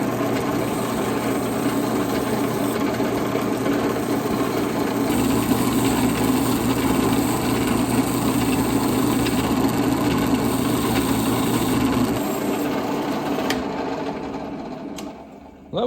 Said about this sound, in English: I'm going to wire wheel all of the scale off of these so that they're nice and shiny too.